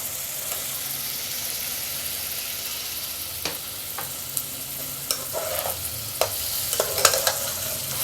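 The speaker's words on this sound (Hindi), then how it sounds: "ये मैंने अनियन को रेड करके फ्राई करके मतलब निकाल लिया" Onions fry in a pan with a steady, moderate sizzle, while a spoon stirs them and scrapes the pan several times, the clinks coming closer together toward the end.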